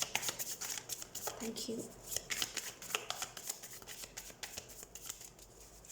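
Tarot cards are shuffled and drawn by hand with quick papery riffles and soft slaps, close and fairly quiet, while someone talks over the card handling.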